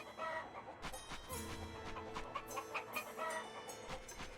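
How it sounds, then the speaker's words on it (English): Chicken clucking in the video game Valkyrie Profile 2: Silmeria, faint repeated clucks over a low droning background hum. "Chicken."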